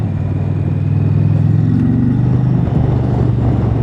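Indian Challenger motorcycle engine running close by, a loud, steady low mechanical drone that holds even for several seconds with only slight changes in pitch.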